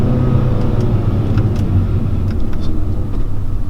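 A 2019 Hyundai Elantra Sport with the 1.6-litre turbo and 7-speed DCT launches in first gear. Its engine drones in a steady, loud, low rumble from inside the car, with no talking.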